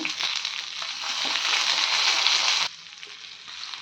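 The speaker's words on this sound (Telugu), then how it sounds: "జీలకర్ర ధనియాలు పచ్చిమిర్చి టమాటాలు వెల్లుల్లి వేయించుకోవాలండి ఫస్ట్" Cumin, coriander seeds, green chillies, tomatoes and garlic fry in about two spoons of oil, giving a steady, close, loud sizzle that swells slightly, then drops abruptly to a quieter crackle near the end.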